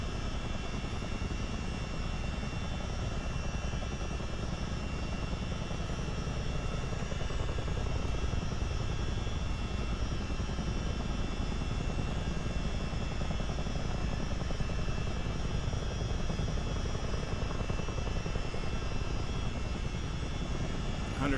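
A simulated CH-47D Chinook helicopter hovering near a taxiway gives a continuous, steady rotor and engine drone, even and unbroken from start to finish, with no talking.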